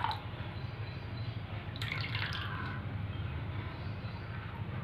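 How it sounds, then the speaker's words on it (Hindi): Vinegar trickles slowly into warm milk while mozzarella is being made: a steady, close liquid rush with a brief splashier patch partway through. "अब मैं इसमें धीरे धीरे जो है ये सिरका ऐड करूँगी"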